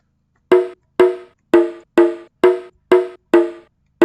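Gamelan-style tracker music with a metallic gong-like tone struck in an even pulse, about eight bright hits that each decay quickly, loud and alone.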